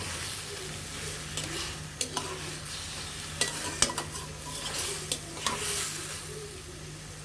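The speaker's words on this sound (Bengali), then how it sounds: "এখন মশলাগুলো ভালোভাবে কষিয়ে নিতে হবে" Spices for a sweet potato and tomato chutney are stir-fried in a pan, a continuous sizzle broken by repeated scrapes and knocks of the stirring spoon, close by and with no one speaking.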